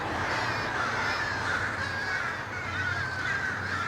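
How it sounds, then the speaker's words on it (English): Many crows cawing at night in a town square, a dense, continuous chorus of overlapping calls that carries steadily throughout. "By night, the caws of crows echo around the area."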